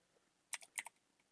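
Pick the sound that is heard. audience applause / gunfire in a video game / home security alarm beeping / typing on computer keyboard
typing on computer keyboard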